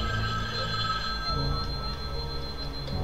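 Telephone ringing in a Halloween fan-made video game, a steady electronic ring repeating over continuous background game noise, with no speech.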